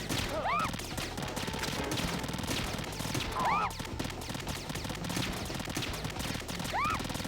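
Sustained gunfire rattles through a firefight in the stealth action game Metal Gear Solid 2: Substance, a dense continuous barrage with a few whistling, gliding tones rising above it.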